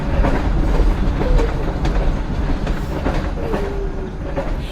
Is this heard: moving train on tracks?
yes